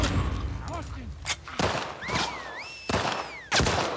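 Enemy gunfire in The Last of Us Part II comes as several sharp, separate shots at irregular intervals, with voices and other game sounds in between.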